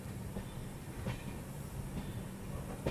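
A passenger express train rolls slowly through the Agra Cantt station yard, a low steady rumble with faint rhythmic clacks of wheels over rail joints, heard from inside the train.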